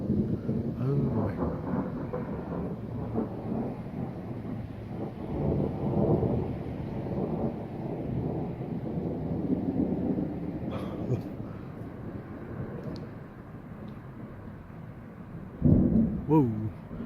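Thunder from a tiny summer thunderstorm in Red Deer, Alberta rolls in a long low rumble, with a sharper crack near the end, amid wind noise and some talking.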